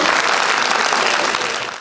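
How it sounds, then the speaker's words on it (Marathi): Dense, loud applause from the audience at a music launch ceremony for the Marathi film 'Baai Ga', steady clapping throughout that tapers slightly at the end. "त्यांच्यासाठी एकदा जोरदार टाळ्या व्हायला पाहिजे"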